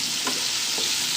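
Capsicum and mixed vegetables frying in a pan for tikka macaroni, a soft continuous sizzle with a couple of brief scraping stirs.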